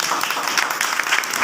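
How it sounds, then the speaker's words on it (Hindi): Loud clapping from a crowd gathered for a Gandhi Jayanti school celebration, a dense steady patter that holds for a moment without any speaking voice. "जोरदार तालियां।"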